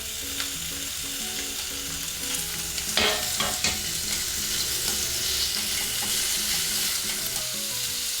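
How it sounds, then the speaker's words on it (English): Steady, loud sizzling of pork stir-frying in oil in a hot frying pan, with scraping and clinking of a utensil stirring it, and soft background music. "start by stir-frying the pork"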